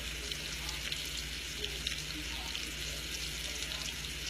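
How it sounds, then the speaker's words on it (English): Scallops frying in a pan for scallops and grits, a steady soft sizzle with faint crackles throughout, fairly quiet and close. "those scallops are cooking up good there"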